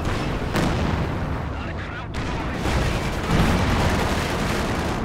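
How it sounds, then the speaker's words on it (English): Katyusha rocket artillery fires at close range in Company of Heroes 2, a dense, continuous roar of launches and blasts running through the whole stretch with a brief dip near the middle, loud and busy. "Close range Katyusha."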